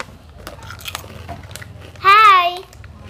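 Crunchy Sugar Crunch chips being bitten and chewed, a few crisp close crunches under quiet background voices, followed by a brief loud vocal exclamation.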